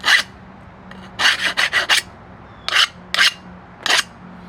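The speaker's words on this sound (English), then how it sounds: "If it skates across and it makes it like a higher pitched sound, that means it's hardened steel" A file rasps across a hardened steel blade in quick repeated strokes, a cluster of four or five then three more spaced passes, each a bright, high-pitched scraping skate, close and distinct with no talk.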